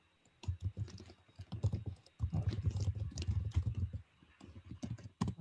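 Fingers tap quickly on a computer keyboard in bursts of rapid clicks, with a short pause partway through, close and fairly quiet.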